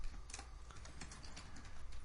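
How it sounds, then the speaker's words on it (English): Quiet, rapid typing on a computer keyboard while writing C++ code, with soft, uneven clicks of the keys in a steady flurry and no talking. "there's a lot of typing here"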